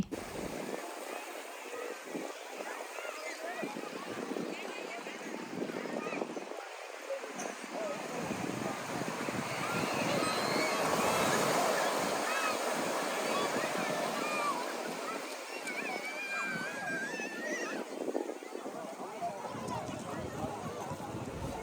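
Strong, dangerous surf at a beach in Colombo, Sri Lanka, rolling as a broad, swelling wash that peaks midway, with someone talking over it throughout.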